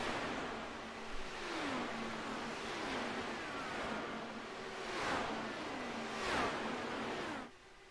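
IndyCar race cars in an iRacing simulation at Auto Club Speedway pass one after another, each engine note rising and falling in a rapid series of whooshing drive-bys over a steady high-speed drone.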